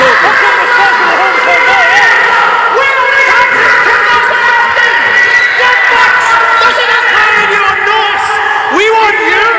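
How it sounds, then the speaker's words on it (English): A wrestling crowd packed into the venue yells and jeers continuously at the performer Christopher Saint, a loud, dense wall of overlapping shouts and whoops with no letup. "the crowd's here telling Christopher Saint to shut up"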